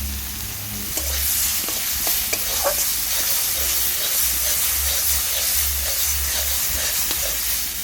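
Spice masala frying in oil for a puti fish curry, a steady sizzling hiss with scattered pops and stirring scrapes throughout, close and fairly loud with no talk.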